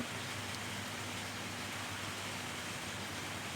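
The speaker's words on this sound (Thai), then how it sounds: "บรรยากาศข้างนอกฝนตกอากาศเย็นนะคะ" Rain falling outside on an October afternoon, a steady, soft, even hiss of continuous rainfall with no voices.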